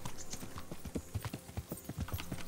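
Horse hooves in the Kingdom Come: Deliverance game as the rider travels back toward Rattay, a quick, continuous clip-clop of hoofbeats with scattered clatter, close and even.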